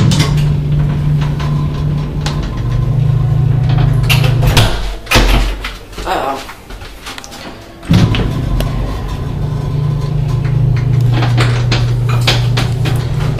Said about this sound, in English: Now we'll go up to one and listen to this motor.